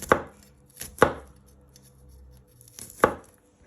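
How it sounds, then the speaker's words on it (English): A knife chops garlic on a cutting board: three loud, sharp, close thuds spaced about a second apart, with quiet room tone between and no talking. "you just want to chop it into little pieces"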